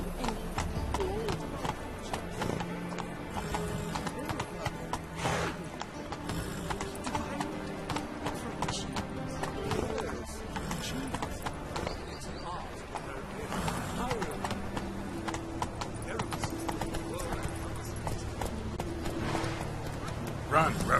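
Hooves clip-clop in a fast, steady gallop throughout a ride in The Witcher 3 video game, loud and continuous, with voices and other game sounds mixed in.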